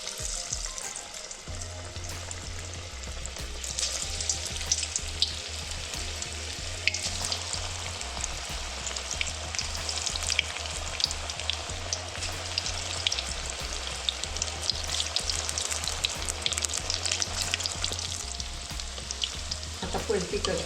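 Sweetcorn fritters (bhaji) sizzle in hot oil, a steady close crackle and hiss with occasional stirring, continuing without a break.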